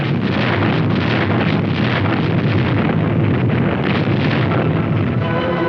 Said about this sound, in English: Their coastal guns opened fire on the Dragoon task force.